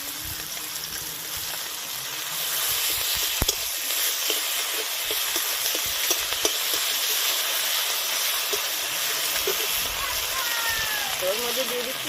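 Onion and ginger paste frying in a pan for a boal fish curry, a loud, steady sizzle and hiss close up with occasional stirring scrapes and light clinks.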